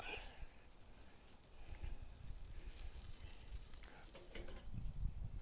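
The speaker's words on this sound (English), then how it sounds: "I'm gonna let the fat burn off of the grill grate." Quiet sizzling of fat burning off a hot grill grate while roast beef cooks, a soft crackling hiss with small pops that grows slightly toward the end, with a person talking faintly.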